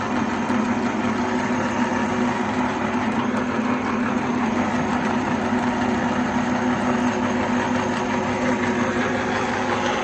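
A workshop machine tool runs with its spindle turning, giving a loud, steady mechanical hum with a constant tone that holds unchanged throughout. No one speaks.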